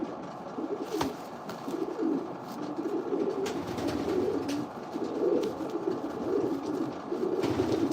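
Racing pigeons in a breeder loft keep up a steady chorus of soft overlapping coos, close and continuous, with a few faint knocks and rustles and no talking.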